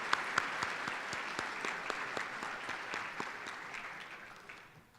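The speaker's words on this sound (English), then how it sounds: "Let's give one more round of applause for our fine quartet from Hershey High School." An indoor audience claps steadily for a Hershey High School quartet at an evening ceremony, a dense, sustained round of applause that slowly fades toward the end.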